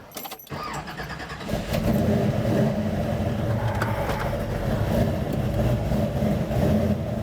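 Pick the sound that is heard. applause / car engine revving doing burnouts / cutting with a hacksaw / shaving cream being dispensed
car engine revving doing burnouts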